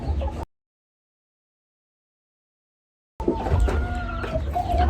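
Scattered clucking from chickens close by, heard after a stretch of silence.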